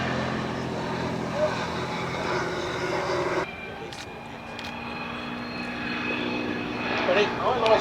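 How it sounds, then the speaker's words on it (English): A Hawker Demon, a two-seater biplane fighter, drones past at a vintage airshow with a steady propeller engine hum that shifts and fades partway through, while a commentator talks over it. "Day bomber, the Demon, two-seater fighter, some 304 of these built by Hawker"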